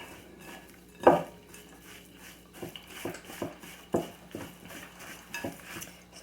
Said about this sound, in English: I'm going to stir it a little more